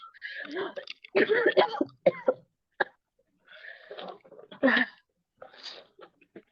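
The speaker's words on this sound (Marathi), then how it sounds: "खोकला, जास्त खोकला." A person with a cold and fever gives a series of harsh, close coughs and throat-clearing bursts in irregular clusters with short quiet gaps between them.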